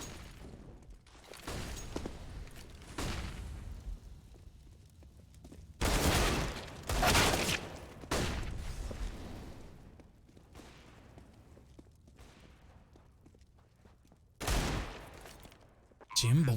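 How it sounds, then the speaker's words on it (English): Desert Eagle pistol fire in a Counter-Strike match, heard as several heavy single shots and short bursts spaced across the stretch over a low background hum, with no talk. "We're just going out with a deagle."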